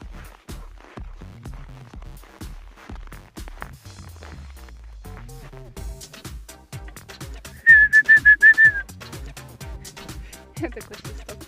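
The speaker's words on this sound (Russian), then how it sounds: "Что ты свистишь?" A person whistles a short warbling run of several quick notes outdoors on a walk with an American bulldog, loud against steady footsteps and rustling, with speech nearby.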